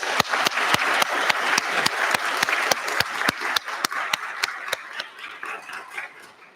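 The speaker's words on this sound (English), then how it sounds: "Please join me in a round of applause to welcome our official party and honored guests." Steady, evenly spaced clapping rings out in a brisk rhythm over a soft crowd murmur at a military commissioning ceremony, welcoming the official party, gradually fading toward the end.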